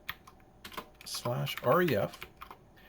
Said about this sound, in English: we're going to type in /ref